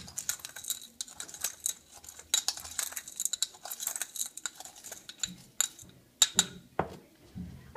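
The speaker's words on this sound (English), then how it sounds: "I'm also going to stir those up" A utensil stirring a mixture in a container, giving rapid, irregular clinks and scrapes that continue for several seconds, close and moderately loud.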